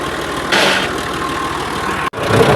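A tractor engine idles nearby with a constant low rumble, briefly louder near the start, cutting out for an instant before resuming.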